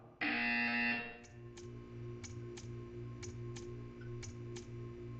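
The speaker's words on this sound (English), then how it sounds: "You will hear a buzzer. When you hear the buzzer, stare at the art." A loud electronic buzzer in the video game Portal 2 blares for about a second, then stops, followed by a steady hum with soft regular ticks.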